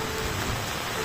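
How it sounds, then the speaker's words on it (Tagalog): Heavy rain pours down outdoors near a hut by the sea, a loud, dense, unbroken hiss of falling water that fills the whole moment. "napakalakas ng ulan dito"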